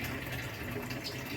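Water draining out of a catfish tank holding African catfish, a steady low gushing, splashing flow heard alone, close and fairly quiet.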